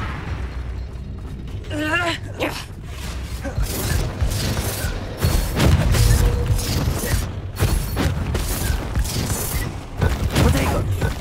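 Spell combat in Hogwarts Legacy, including the Confringo fire blast: repeated bursts, booms and crackling impacts, with a voice talking over the fighting.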